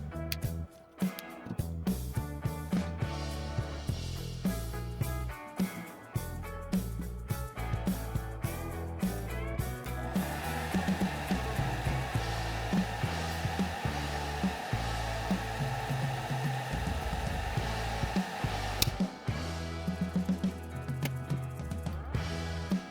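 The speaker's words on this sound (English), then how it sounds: "Testing again with hairdryer, see plate bending." A hair dryer blows steadily and loudly for the whole stretch, heating the bimetal plate of a circuit breaker under test. The whir is continuous, with small clicks and bumps layered over it.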